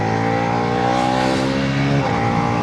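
Bajaj Pulsar NS350z motorcycle engine held at a steady, loud, close drone while riding, with a brief dip and pitch change near the end as the rider shifts gear smoothly.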